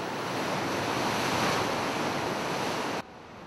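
Sea waves wash into a coastal cave in Japan, a dense, steady roar of surf with wind-like hiss that cuts off abruptly near the end, leaving a faint quieter background.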